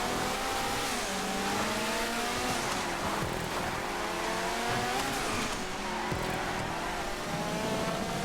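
Sultan rally car racing on a GTA 5 rallycross track, engine revving hard with gear-change dips, tyres scrabbling and skidding over loose ground, loud and constant throughout.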